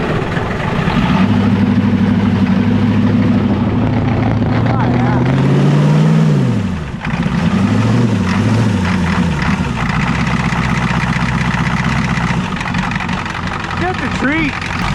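An old Ford tractor diesel engine running at a steady, loud, low idle, with a brief dip in pitch midway before it settles back into a rumbling idle.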